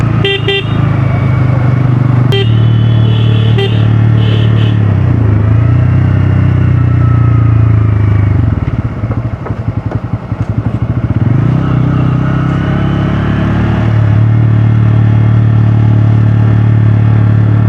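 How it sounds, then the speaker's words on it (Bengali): A motorcycle rolls downhill on engine braking along a hilly Bandarban road, its engine holding a steady low drone that dips briefly mid-descent before resuming, loud and close throughout. "আমার গাড়ি এখন সম্পূর্ণ ইঞ্জিন ব্রেকে নামতেছে"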